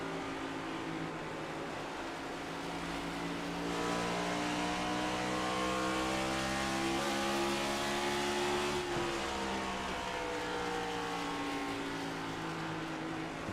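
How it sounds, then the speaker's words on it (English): Onboard audio from a race car in the iRacing Cup series at Iowa, a loud, steady engine roar with harmonics that climb and fall as the car accelerates and lifts off. No speech, constant high level throughout. "And now let's listen to Carol's car."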